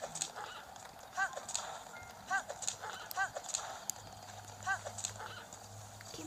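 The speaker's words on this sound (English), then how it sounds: "my horse just jumped over that" Horse hooves clip-clop in a video game, a rhythmic galloping patter with repeated hoof strikes under faint background sound and some quiet talk.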